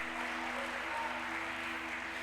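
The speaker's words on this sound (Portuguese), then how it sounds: "dê uma forte salva de palmas para Jesus, porque Ele merece isso" A church congregation applauds for Jesus during a Sunday service, a dense, steady wash of clapping hands filling the room at moderate distance, with a low hum underneath and no voices.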